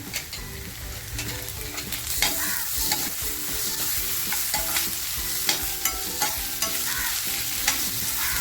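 Curry leaves crackle and pop in hot oil with onion, ginger, garlic and chilli while making mutton pepper fry, a loud steady sizzle with rhythmic stirring scrapes close by.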